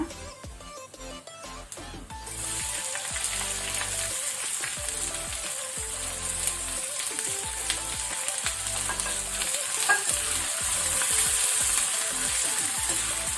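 Onions and urad dal fry in oil in a pan on a medium flame, making a continuous dense sizzle that starts quieter and swells after a couple of seconds, with occasional stirring clatter and no voices.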